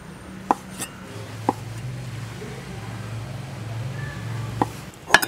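A knife cuts handmade konjac and glutinous rice cake on a board, with a few sharp, sparse chops spread over a quiet low background hum and a clustered pair of knocks near the end.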